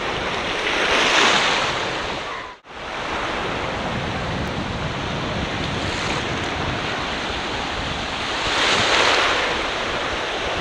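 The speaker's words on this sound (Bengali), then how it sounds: "সমুদ্রের একটা ঢেউ আমাদের একদম পায়ে এসে লাগতেছে" Bay of Bengal waves surge and break at Bashbaria Sea Beach, Bangladesh, a loud rushing wash that swells and fades, with wind buffeting the microphone.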